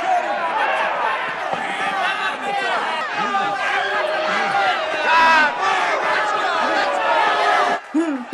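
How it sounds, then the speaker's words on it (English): A large crowd at a boxing match in the 1975 film Rocky jeers and roars continuously, a dense wash of many voices with scattered shouts, staying loud throughout before briefly dipping near the end. "People are booing."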